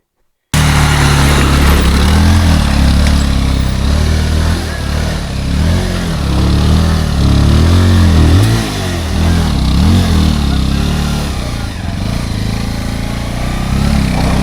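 A motorcycle rides a rough, muddy valley road in Ekola Valley, its engine droning loud and close throughout, with repeated revving surges and throttle swells as it labours over the uneven ground.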